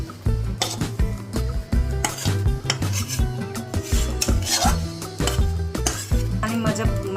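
Thick sukhdi mixture being scraped out of a pan onto a plate, with repeated loud metallic scrapes and clanks of utensil against cookware in an irregular rhythm.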